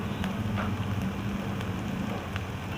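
Onion and capsicum frying in a pan, a dense, even sizzle and crackle with scattered sharp pops throughout, close and steady, no talking.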